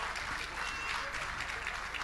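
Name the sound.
audience applause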